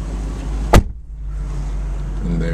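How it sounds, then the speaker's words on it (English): A single sharp, solid thump as the door of a Roush Stage 1 convertible is shut from close by, followed by a quiet idle-like background. "I'm gonna shut this door."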